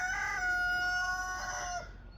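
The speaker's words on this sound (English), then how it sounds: "I hear you, roosters" A homestead rooster crows one clear, drawn-out cock-a-doodle-doo that rises and fades, fairly close and loud against quiet farmyard background, with no talk.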